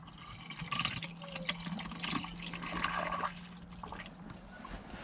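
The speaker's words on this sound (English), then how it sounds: "I know if I jerk, radiator fluid's going everywhere" Radiator coolant drains out of a 1998 Honda CR-V with its O-ring pulled, a steady close trickle and splash of liquid lasting throughout, with no talking.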